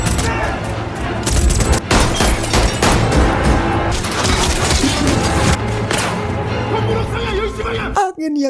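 Dense, continuous gunfire from a sniper shootout in a film scene, loud rapid bursts and booms layered with music and effects, ending in a brief lull.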